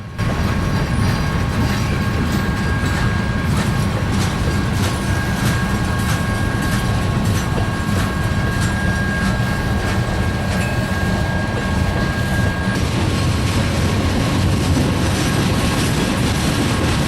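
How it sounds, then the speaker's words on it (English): A freight train rolls slowly into a rail yard, its cars producing a continuous loud rumble with rhythmic clicking from the wheels and faint high wheel squeals carried across the whole stretch. "As the train continues to roll into the yard"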